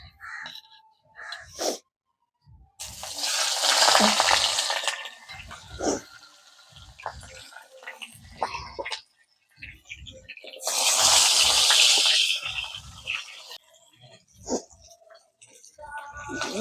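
Fish heads dropped into hot mustard oil set off two loud, bright bursts of sizzling spatter, several seconds each, with quieter kitchen clatter and murmuring between them.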